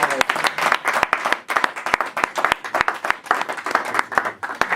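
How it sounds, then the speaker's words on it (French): A church congregation claps loudly and continuously to acclaim the Lord, a dense, steady burst of many hands with rhythmic clapping running throughout. "Nous acclamons très fort le Seigneur."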